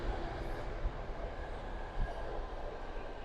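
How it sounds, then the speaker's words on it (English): A steady low rumble of a freight train rolling past, continuous and fairly loud with a dense broadband roar and occasional clunks. "That's a freight train."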